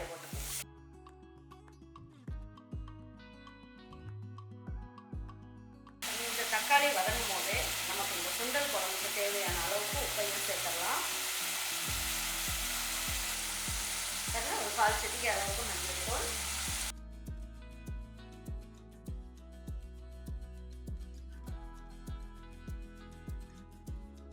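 Chopped shallots and tomatoes fry in a pan with a loud, continuous sizzle lasting about ten seconds. Utensil clinks and stirring knocks come before and after the sizzle.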